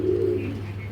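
A pair of Giribaj pigeons in a loft gives a short, soft, low cooing call at close range, alone with no talk over it.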